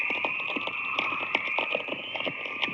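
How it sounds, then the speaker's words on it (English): A radio recording of the aurora borealis carries a steady high whistling tone over a bed of crackling static, with scattered sharp clicks throughout. "That's the sound of the aurora borealis."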